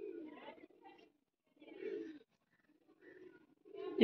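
A female pigeon held in the hand gives soft low coos in short separate bursts, close and fairly quiet, with gaps of silence between calls and a brief handling rustle at the end.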